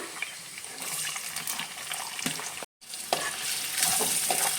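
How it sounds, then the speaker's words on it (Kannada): Onions frying in hot ghee with cumin seeds, giving a steady broadband sizzle with stirring scrapes throughout and one brief dropout midway. "ಈರುಳ್ಳಿ ಚೆನ್ನಾಗಿ ಫ್ರೈ ಆಗಲಿ."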